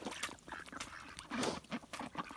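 Ducks quacking on a snowy farm morning, a quick run of nasal quacks close by, faint and busy, with no talk.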